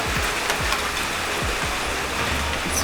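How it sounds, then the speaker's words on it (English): Steady rain falls outdoors with a constant hiss of drops on surfaces, and a few faint low thumps sound underneath; no one speaks. "It's raining"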